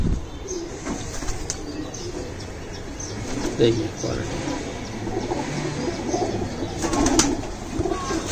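Racing pigeons in a Bangladesh flock cruise overhead while soft coos and a few wing flutters come through a constant outdoor murmur, and someone talks over it intermittently.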